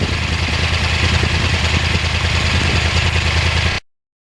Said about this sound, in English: I just love listening to this Crossplane engine